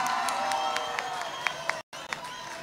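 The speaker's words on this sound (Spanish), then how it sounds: "¡Un aplauso para ellos!" Concert audience at a live orchestra show, a brief burst of crowd cheering and scattered clapping with whoops rising over it, cut by a short dropout partway through.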